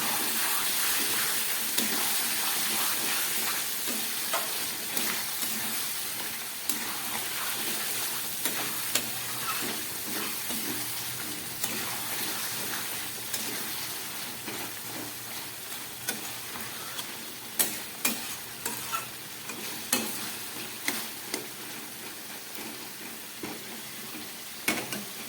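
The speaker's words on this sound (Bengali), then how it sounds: "গ্যাসটাকে আবার কম করে দিচ্ছি, একদম গ্যাস কমিয়ে এই মশলাটাকে পুরো মাংসের সঙ্গে কষাতে হবে।" Spice masala cooking down with mutton and tomato over a low gas flame makes a continuous close hiss and crackle. Irregular stirring clicks and taps grow more frequent toward the end, and no one speaks.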